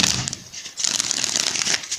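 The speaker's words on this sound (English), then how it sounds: "let's shuffle this deck" A tarot deck is shuffled by hand in a soft, continuous papery riffle that lasts about two seconds, close to the listener and with no talking.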